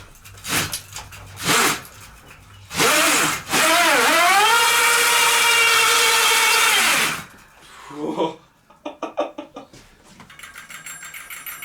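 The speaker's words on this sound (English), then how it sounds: "This motor's got some power to it." The motor of a homemade electric mountain bike revs up with a loud rising whine, holds for several seconds and winds down, followed by short clicks and rattles, with brief bursts of sound before it starts.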